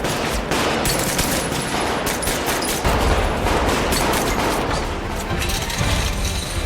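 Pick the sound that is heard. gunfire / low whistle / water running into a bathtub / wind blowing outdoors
gunfire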